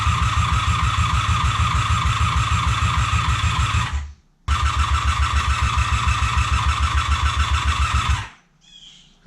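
An abandoned 1988 superbike engine is cranked over twice by the starter, each burst a fast, even chugging rhythm lasting about four seconds, loud and close, separated by a short silence.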